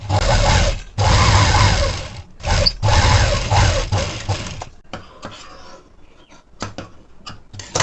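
A sewing machine runs a shoulder seam on a plain blouse with a half-inch allowance, loud and close in two long fast stitching bursts, then shorter stop-start runs and clicks as the fabric is handled.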